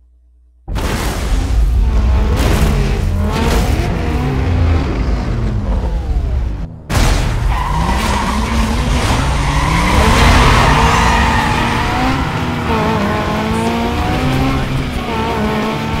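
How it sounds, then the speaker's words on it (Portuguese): Cars race in Need for Speed Most Wanted (2013), with loud roaring engines shifting through gears, tires squealing and skidding, and a brief cut before the engine noise resumes at full volume. "Vou fazer a segunda corrida contra o 15º da Blacklist."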